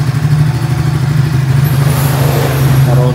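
Superlet moped engine starting and running, a loud close buzzing idle with rapid rhythmic pulses, rising slightly in pitch partway through as it revs.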